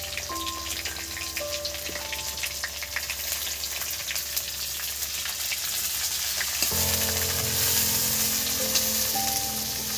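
Chopped onion hitting hot oil with ginger and garlic, a dense continuous sizzle that swells louder partway through as more is added, with light stirring and a faint tonal hum behind, no talk.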